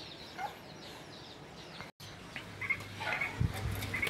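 Chickens in a backyard coop making soft, intermittent clucks at moderate distance, with a few louder calls and light rustling toward the end; no talk.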